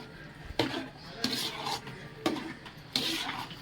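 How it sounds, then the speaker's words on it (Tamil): Spoon scraping a pan of rava kichadi over a low flame, four distinct sharp clanks with gritty stirring between them, close and clear. "சிம்மில் வச்சே கிண்டுவோம்"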